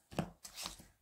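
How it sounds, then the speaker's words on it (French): Tarot cards being drawn and turned over, two or three soft, close papery flicks and slaps within a second, faint and alone. "Je vais tirer les cartes, je vous les retournerai toutes."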